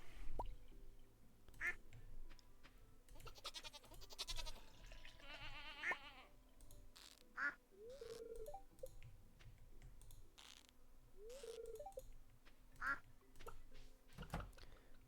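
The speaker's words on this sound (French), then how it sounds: "Bah alors, mes vilains petits canards." Several Stardew Valley duck quacks pop up at intervals over a quiet scene, mixed with bleating and clicky tapping, all fairly faint with gaps between.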